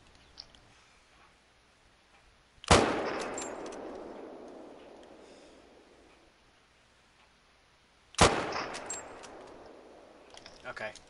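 Two loud rifle shots fired at a jackal in a hunting video game, about five seconds apart, each a sharp crack followed by a long rolling echo that slowly fades.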